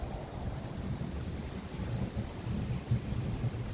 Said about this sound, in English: But no, it's quite stormy.